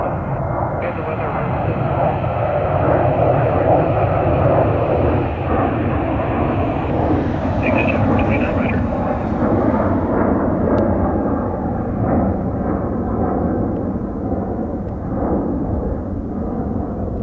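A US Navy P-8A Poseidon jet doing touch-and-go landings at Tri-Cities makes a loud, sustained engine roar that swells and then slowly fades, with radio voices talking over it.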